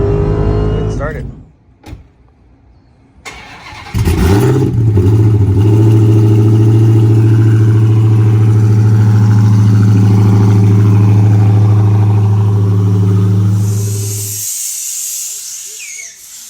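A Hellcat with an 800 rwhp stage 2 build cranks and fires after a few seconds, then holds a loud, deep, steady rumble that fades toward the end.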